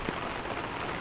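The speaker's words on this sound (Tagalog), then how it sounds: "Medyo humina na po yung ulan po niya ngayon." Steady rain on a surface beside a concrete-paved landing and drainage manhole, a dense even hiss of drops close by with no voices.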